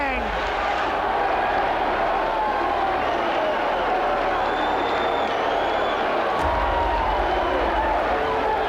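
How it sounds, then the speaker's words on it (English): Crowd in a boxing arena roars after a knockout, a dense sustained wall of cheering and shouting throughout, loud and steady. "Listen to the crowd."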